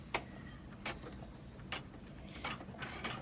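An embroidery machine stitches out a design, faint mechanical ticking and clacking in an irregular series of short sharp bursts over a low hum, quiet and distant-sounding, with no one talking.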